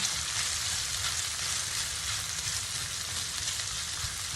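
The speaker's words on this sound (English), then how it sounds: "These are going to cook for 3 to 4 additional minutes until the peppers and onions have softened and are slightly browned" Peppers and onions sizzle steadily in a hot pan, a loud, even, close frying hiss that carries on without pause or talk.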